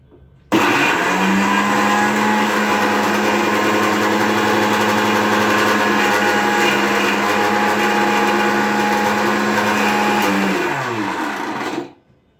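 An electric kitchen grinder runs loud and steady for about eleven seconds, grinding food with a constant high whine and a rattling drone, then spins down and stops.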